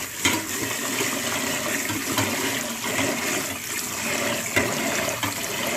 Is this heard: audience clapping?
no